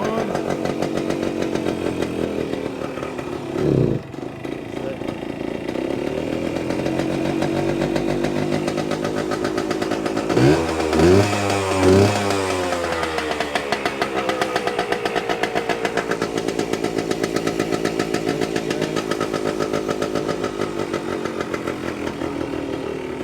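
A two-stroke chainsaw engine runs steadily and loud throughout, its choke and carburetor in need of work, with a brief rev surge partway through before settling back to a rough, continuous idle.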